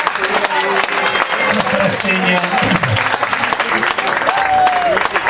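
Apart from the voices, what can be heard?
applause at blues festival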